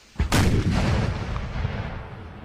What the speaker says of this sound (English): wow, that was a pretty intense explosion coming out of that cannon